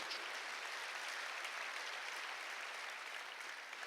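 A church congregation applauds during a sermon, an even, continuous wash of clapping, fairly faint and distant, with no break over the few seconds.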